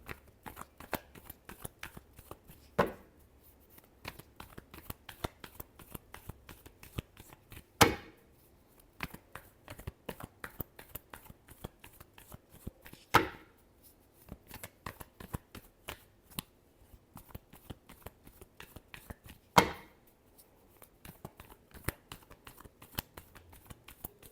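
Tarot cards are shuffled close up by hand in a quiet room: rapid papery riffles and slaps in bursts, with sharper taps every few seconds. No voices are heard.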